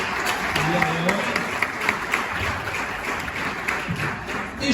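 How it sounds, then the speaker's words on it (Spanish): A room of people claps for two teachers stepping up in a church youth class, uneven clapping with some individual hand claps standing out and voices mixed in. "Así que pasen Elisa, pasen Fabiana, un fuerte aplauso para ellas, nuestras teachers, el día de hoy."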